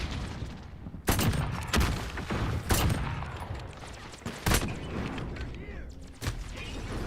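Rapid gunfire from a shooter video game, with bursts of shots snapping out repeatedly over a busy mechanical background, loud and close throughout.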